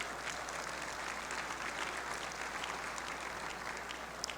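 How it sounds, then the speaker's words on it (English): An audience at a business forecast event claps in a dense, even wash of applause, sustained and moderately loud throughout, with no talking. "Can I please get a round of applause"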